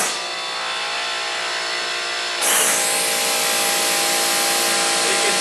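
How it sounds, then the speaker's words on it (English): A Goodway cooling tower cleaner spraying at low pressure like a pressure washer, aimed onto cooling tower fill, produces a loud, steady hissing rush that grows harsher and brighter partway through and then holds, close by with no talking. "I'm going to just fire it up so you can get an idea of what it looks like when you're cleaning on fill"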